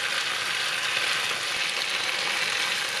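Chicken thighs frying skin-side down in a pan, a dense, even sizzle and crackle that holds steady throughout with no talking.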